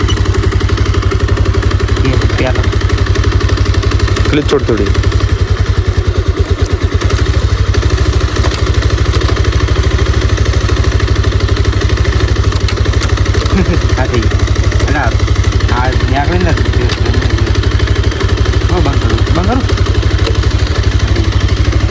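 A motorcycle runs in a groundnut field, its engine droning and clattering steadily at close range throughout, with someone talking over it.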